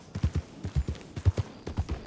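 Horse hooves clip-clop at a walking pace in Red Dead Redemption 2, a steady run of soft, close thuds with no voices over them.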